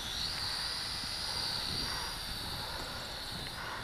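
An MJX X401H six-axis gyro quadcopter drone flies outdoors in a slight breeze, giving off a steady, high-pitched motor whine that stays fairly close and constant throughout, with no talking.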